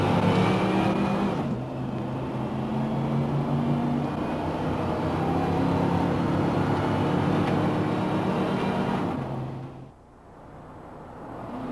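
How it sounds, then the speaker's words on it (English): A truck with an E4OD automatic transmission drives under three-quarter throttle, its engine droning steadily and shifting pitch through upshifts, loud and continuous before easing off near the end. "try some upshifts at 3/4 throttle to see if the clutches and band are in normal condition"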